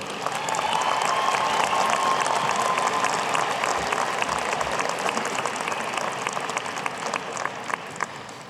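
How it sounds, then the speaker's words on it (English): Sustained applause from a large graduation audience at a winter commencement ceremony, steady dense clapping filling the whole stretch at an even loudness with no voices over it. "let's give them a rousing round of applause, because this is their day too"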